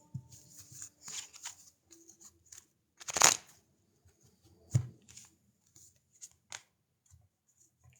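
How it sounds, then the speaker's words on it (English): Tarot cards being shuffled close up: scattered soft riffles and slides, a sharper crisp card snap in the middle, then quieter intermittent taps and shuffles spread across several seconds. "We're shuffling."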